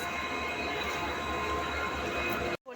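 A passenger train standing at a station, heard from inside a carriage as a steady low rumble and hum of the train and platform, fairly faint, cut off abruptly near the end.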